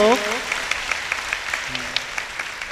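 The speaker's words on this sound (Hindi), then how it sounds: "जोरदार ताली बजाएं आप सब लोग।" Devotees at a Kabir ashram gathering applaud in a scattered, uneven patter of claps, moderately loud, after a brief voice at the start.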